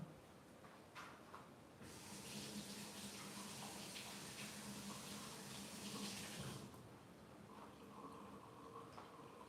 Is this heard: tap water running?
yes